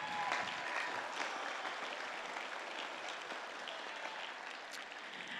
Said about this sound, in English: Yes, go ahead and applaud.